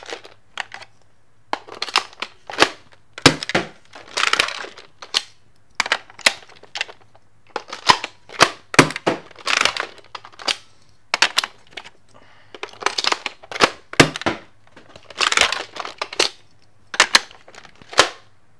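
A Nerf Sledgefire toy blaster fires in a string of sharp, loud cracks, each snap followed by clattering reloading action, repeated many times in quick irregular succession with short quiet gaps between.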